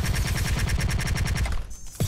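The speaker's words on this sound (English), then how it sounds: "Proton cannon!" Iron Man's proton cannon attack in Marvel vs Capcom Infinite, a rapid, steady burst of loud repeating blasts for nearly two seconds that cuts off abruptly, then a short final impact.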